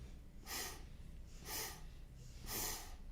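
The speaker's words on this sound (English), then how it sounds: "inhale in 4 sniffs through the nose, filling the lungs from the bottom to the top" Four quick sniffs drawn in through the nose in a steady rhythm, each a short airy burst, close and fairly quiet over a low background hum, taken as a breathing exercise.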